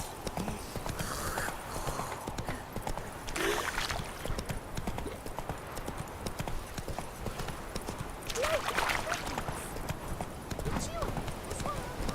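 Hooves of the horse in The Witcher 3 clip-clop at a steady walking pace under a voice, with a couple of brief snorts or whinnies mixed in.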